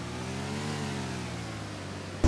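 Car engine in Grand Theft Auto IV holding a steady, loud mid-pitched revving drone that ends in a sudden louder burst, with no one talking.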